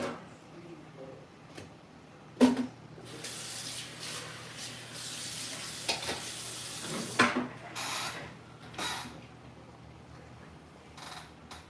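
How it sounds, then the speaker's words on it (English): Cooked penne pasta and its water are poured into a strainer, giving a rushing splash that comes in bursts with clattering knocks between them, at moderate volume. "We're gonna drop this in a strainer."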